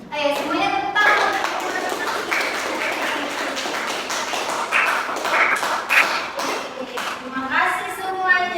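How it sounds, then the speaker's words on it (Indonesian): Children in a classroom clap together on a teacher's cue, a dense burst of applause lasting several seconds with a few voices mixed in, close and loud. "Ayo semuanya tepuk tangan."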